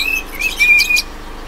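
An albino lovebird gives short, thin whistles in quick succession, a few bright rising and falling notes close by over a quiet background.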